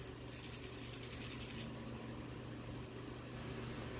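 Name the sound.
struggling motor inside Furby toy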